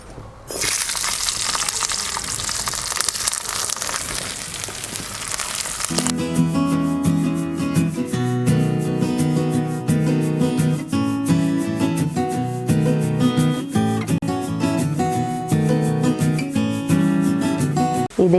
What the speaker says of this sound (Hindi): ये देखिए हमारा जो लहसुन है वो अच्छे से फ्राई हो गया है